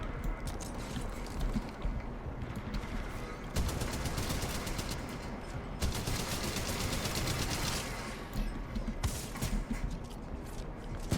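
Rapid pistol fire from Titanfall 2 rattles in quick bursts across a busy, loud battle mix, with brief lulls between volleys and constant game action noise around it.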